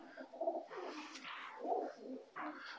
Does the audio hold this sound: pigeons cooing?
yes